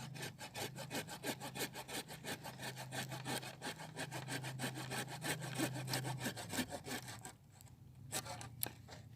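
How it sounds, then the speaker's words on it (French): A garden saw cuts through freshly felled green alder wood in steady back-and-forth strokes, rasping and close, with the stroke rhythm easing and breaking off near the end. "je vais venir couper là où je viens de faire ma marque à la scie"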